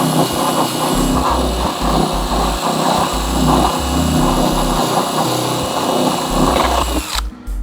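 Dremel rotary tool cutting plastic trim inside a 2019 Ford Flex SEL: a continuous high-pitched grinding whine with slight wavering load, close and loud for about seven seconds before stopping abruptly.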